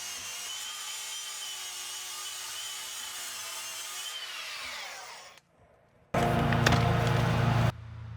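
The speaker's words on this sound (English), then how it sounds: "I'm gonna take a flapper around next and clean it up real good" An angle grinder with a flap disc sands and cleans up a surface, whining steadily and loudly before winding down into a short silence, then a louder, harsher burst of grinding.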